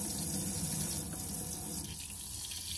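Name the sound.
campervan tap running, pressurized water flow into sink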